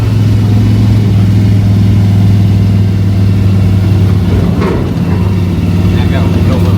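Engine of a 1984 square body pickup truck idling low and steady, then easing up as the clutch is let out to pull away, with people talking over it.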